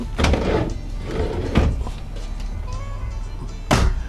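Drawers in a small Class-C motorhome being slid open and shut, a few short rolling thumps and clacks spaced across a few seconds, close and fairly loud in a quiet interior.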